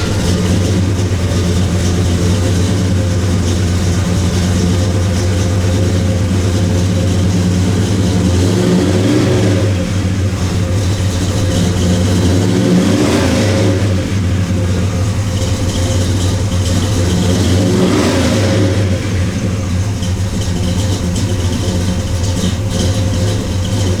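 A 1965 Chevrolet Chevelle Malibu with a big-block 396 V8 on a test drive, its engine a loud, steady low rumble that swells through several revving surges, heard from inside the car without talk.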